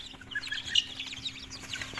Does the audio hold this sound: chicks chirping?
yes